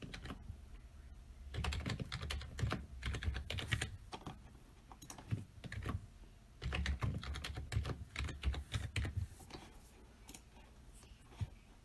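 Fingers type a password on a computer keyboard, bursts of quick, close key clicks with short pauses between runs and no talking.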